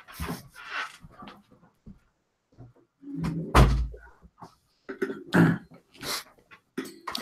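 A room door is pushed shut with a solid close-range thunk amid footsteps, coughing and shuffling movement, followed by more scattered knocks and handling noises.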